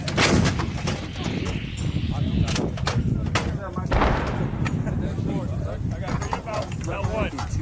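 Howitzer artillery fires during an intense training session. Heavy booming blasts and sharp reports come one after another in a dense, loud barrage, with shouted voices mixed in.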